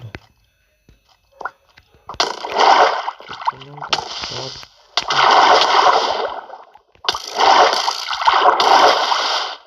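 Water splashing and sloshing in the Minecraft video game, coming in loud, sustained bursts of roughly two seconds each, separated by short pauses, with faint sounds in the gaps between bursts.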